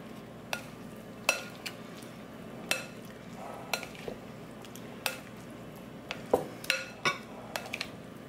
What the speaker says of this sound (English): now we're gonna add our pickled ingredients. Give it a nice stir.